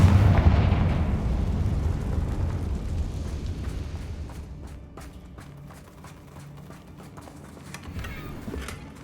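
A Confringo fire-blast spell explodes in Hogwarts Legacy, a loud booming blast that decays into a rumbling tail over several seconds, followed by a few faint crackles and pops.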